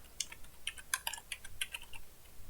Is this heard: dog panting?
no